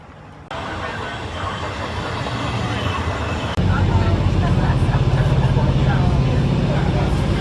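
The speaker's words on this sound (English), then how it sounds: "We're at the train station." Busy train station near Rome with trains, a steady loud rumble of engines and rolling stock that steps up midway into a heavier, closer drone, with voices mixed into the background.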